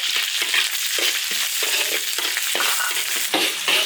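Knife-cut chopped chilli frying in an iron wok gives a loud, steady sizzle and crackle, broken by repeated scraping stirs of a spatula against the metal.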